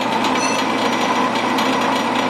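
A brake lathe cuts steadily across a Willys Jeep flywheel, giving a loud, continuous grinding scrape with a faint rhythmic pulse and no pauses.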